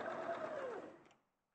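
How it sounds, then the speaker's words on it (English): A sewing machine stitches fast in a steady whirring run for about a second, then slows and stops, close and alone. "This is speed sewing."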